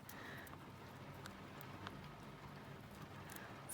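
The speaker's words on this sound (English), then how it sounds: "I'm sorry about that rain." Rain drums steadily on a loft Velux roof window, a constant close hiss with scattered sharper drop taps and no talk over it.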